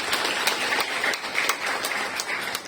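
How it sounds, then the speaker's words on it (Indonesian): A seated audience claps at a gathering, a brief burst of dense, fairly close applause with scattered sharper claps standing out. "Tepuk tangan buat kita semua."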